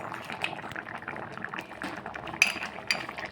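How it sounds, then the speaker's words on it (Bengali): Lentil dumplings (bori) tip into a pot of simmering sukto, a soft bubbling liquid bed with small clinks of a utensil against the pot and a couple of brighter knocks near the end. "এর মধ্যে আমি বড়িটা এবার ঢেলে দেবো।"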